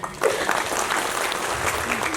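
A classroom group breaks into steady, lively clapping that holds at an even level for about two seconds, many hands overlapping into a continuous patter.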